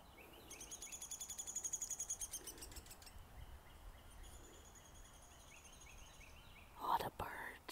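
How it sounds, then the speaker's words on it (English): Birds chirp outdoors on a quiet walk in Nashville, Tennessee, starting with a rapid, rhythmic run of bright repeated notes, then thinner calls, before a short close burst of sound near the end. "All the birds."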